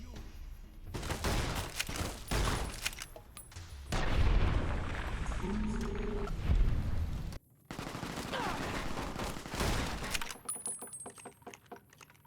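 Dense gunfire in the video game Fallout New Vegas, Honest Hearts DLC, with repeated loud shots and rapid bursts over game noise and music, briefly cutting out midway before continuing.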